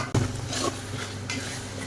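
A spoon stirs sardine fish curry in a pot, giving a clear scrape and clatter at the start, then a steady simmering hiss and soft metallic rustling that continue for a couple of seconds.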